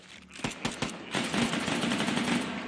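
Rapid bursts of gunfire as magazines are dumped in the VR shooter H3VR, with a few separate shots first and then a dense, continuous stream of loud automatic fire.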